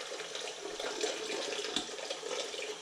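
Tap water runs steadily into a sink during dishwashing, a continuous close splashing hiss with no voices.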